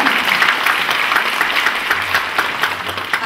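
Audience applause at a folk ensemble's 35th anniversary concert at a community cultural hall, dense and lively clapping throughout, with a faint low rumble partway through.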